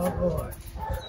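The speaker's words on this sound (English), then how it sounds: "That's a good looking dog." A dog, brought up to show off, makes short yips and whimpers close by, mixed with people talking over it through a busy, continuous stretch.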